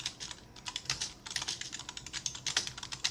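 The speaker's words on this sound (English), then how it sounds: "Sorry about the annoying typing." Rapid clicking of keys on a gaming keyboard, a steady close patter of keystrokes with uneven rhythm and occasional louder taps, soft and continuous with no voices over it.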